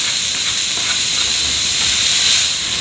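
Carrots and peppers roasting in a hot pan, giving a steady, loud hiss of sizzling with no other sounds over it.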